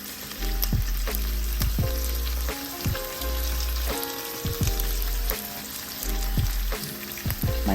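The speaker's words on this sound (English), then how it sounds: "So I'm caramelizing onions for our burgers." Onions caramelizing in a pan for BBQ burgers, a steady close sizzle and fry with periodic scraping and stirring knocks from a utensil throughout.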